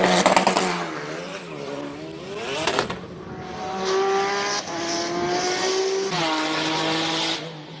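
A highly modified BMW E46 race car with a big rear wing powers through a Cape Town hillclimb run, its engine note rising and falling through gear changes with sustained high-revving howls.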